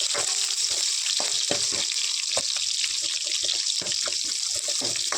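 Onions with mustard seeds, fennel, cumin and curry leaves frying in hot oil in a kadai, a steady bright sizzle with scattered crackles and stirring scrapes throughout, close and continuous with no talk.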